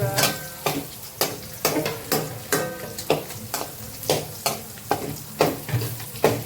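Food fries in a pan while being cooked for uggani until brown, with a continuous sizzle broken by regular scraping stirs roughly every half second, close and clear with no talking.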